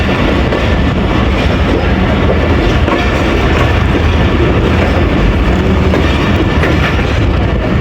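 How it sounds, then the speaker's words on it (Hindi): The down Tezgam Express passenger train pulls into Jhelum railway station in Pakistan, a loud, continuous rumble of rolling wagons with steady clickety-clack of wheels over rail joints filling the whole stretch, heard close and without talk. "जनाब जेहलम पहुँच गई जी डाउन तेज़गाम"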